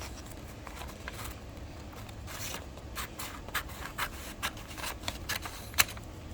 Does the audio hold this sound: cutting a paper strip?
yes